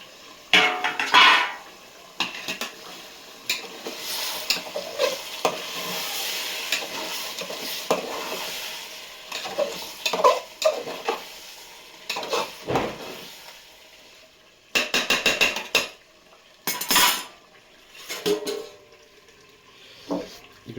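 Rice and vegetables for biryani frying in a pan, a steady sizzle broken by repeated scraping stirs and clinks of a utensil against the metal, loud and close, with no talking.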